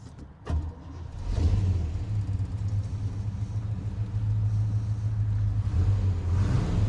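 Restored Chevy Bel Air with a 327 V8 and five-speed manual: a brief starter crank and catch, then the engine settles into a steady, close, deep running rumble.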